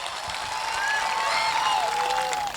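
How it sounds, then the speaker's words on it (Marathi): A crowd claps at a Maharashtra Kesari wrestling celebration, a steady wash of applause held throughout, with a whistle-like tone sliding over it. "जोरात टाळ्या वाजून."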